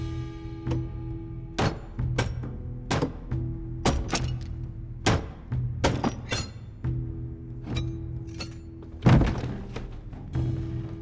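Repeated heavy thunks and cracking knocks as a coffin lid is pried open, a series of sharp impacts about every second with a louder splintering hit near the end, over a low steady hum.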